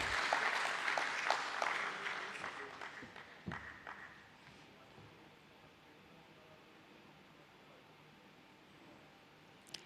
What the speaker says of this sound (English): Keep the applause going, ladies and gentlemen.